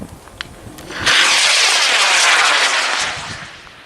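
Two-stage model rocket lifting off at a club launch: after a quiet moment a sudden loud hissing roar bursts out near the listener, holds for about two seconds, then fades as it climbs away.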